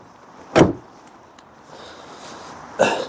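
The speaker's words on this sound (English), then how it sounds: "the Volkswagen Golf, well, basically blew its own trumpet about its own door shut sound" A Volkswagen Golf VR6 4MOTION door thuds shut, two separate solid closing thumps about two seconds apart, close and clear against a quiet background.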